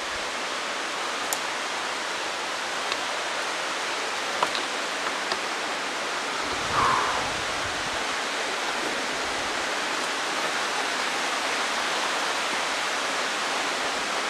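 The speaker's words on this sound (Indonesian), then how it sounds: "Itu ke bawah itu sungai ya." A river flows below a slippery, moss-covered path, heard as a steady broadband rushing of water that fills the background evenly with a brief low bump midway.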